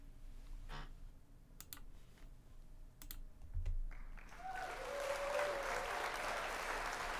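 Clapping sound effect played during live tennis commentary of an Adelaide International match, entering after a few quiet seconds of scattered keyboard clicks and swelling into dense, steady crowd-style applause that holds to the end.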